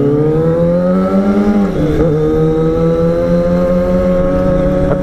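A Suzuki GSX-R sport motorcycle with a short aftermarket exhaust idles and rumbles nearby, a steady loud drone with a brief rise in pitch partway through, no talking.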